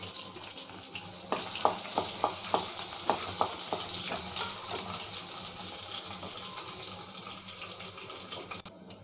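Crushed garlic frying in oil for prawn curry, a constant crackling sizzle with a run of sharp spattering pops near the start; no voices.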